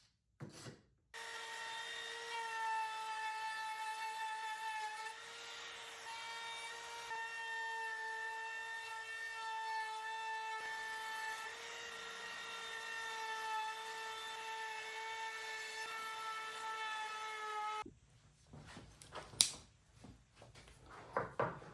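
Router fitted with a flush trim bit, bearing on the far end, trimming a wooden bread knife blank against a thin acrylic template. A loud, steady high whine runs for about seventeen seconds, then stops, leaving scraping and handling noises.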